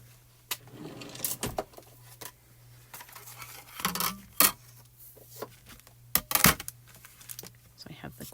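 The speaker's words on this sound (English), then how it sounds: "we are going to cut this out" Scissors cut out stamped paper in a quiet room, giving a series of short crisp snips and rustles spaced irregularly over a faint steady hum, with no voice.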